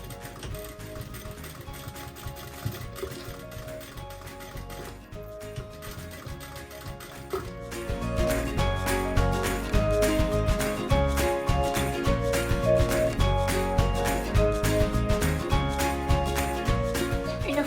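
A sewing machine stitches the long seams of an origami fabric bag, with a steady rapid mechanical clatter close by. It runs quieter at first, then grows louder and denser partway through and continues without pause.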